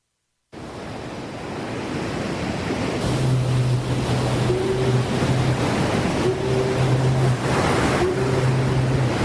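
Ocean waves break with a steady, loud surf wash as part of a radio station jingle, with faint low musical tones entering partway through.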